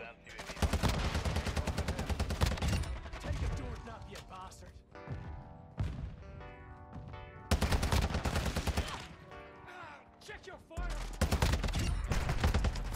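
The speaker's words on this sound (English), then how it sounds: "You're shooting my body, dude." Rapid automatic gunfire in Modern Warfare 2 with a TAQ-V rifle, loud sustained bursts broken by short pauses, while someone talks over the game action.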